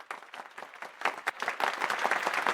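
A small audience claps for a couple of seconds, scattered hand claps building into a brief burst of applause.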